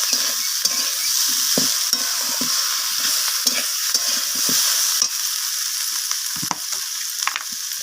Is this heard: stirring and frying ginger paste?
yes